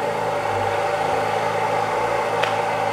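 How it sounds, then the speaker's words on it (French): A Ford Mustang with a 5.0 engine runs steadily inside a garage, its exhaust giving a loud, continuous low rumble throughout with no speech. "Un bruit d'échappement dans un garage, c'est pas bien grave"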